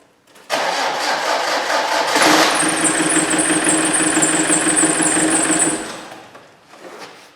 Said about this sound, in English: I'm going to turn the key and just make sure the engine starts and runs nicely.